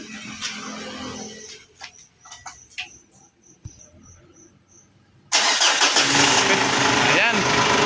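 A 2014 Ford Everest engine cranks and fires up, turning from a quiet scene with insect chirps and a few clicks into a sudden loud, steady engine roar that continues close by.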